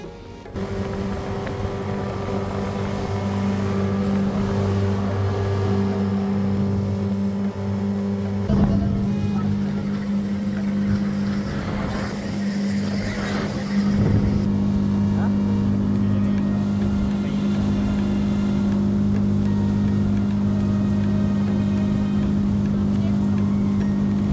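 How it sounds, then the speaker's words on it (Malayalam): Speed boat cruising on the Kavvayi backwaters in Kerala, a steady humming motor drone with water and wind rush underneath while passengers chat over it. "നമ്മൾ സ്പീഡ് ബോട്ട് ചൂസ് ചെയ്തു"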